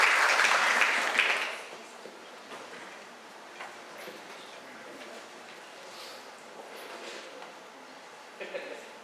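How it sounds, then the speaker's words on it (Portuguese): A roundtable audience gives a short burst of applause for a council member, loud at first and fading within two seconds, followed by a quiet room with faint scattered sounds. "Salva de palmas"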